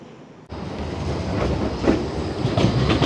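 A Blackpool tram rolls past close by, a loud sustained rumble with rhythmic wheel clatter that starts abruptly and stays strong, with no talking.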